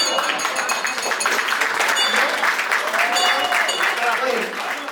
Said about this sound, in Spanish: Nos despedimos con un fuerte aplauso.